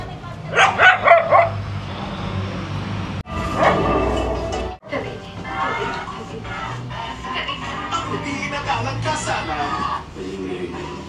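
A dog barks and yips nearby on a commercial lot by a highway, a quick run of sharp barks at first and then softer whimpering sounds, with people talking over and between them.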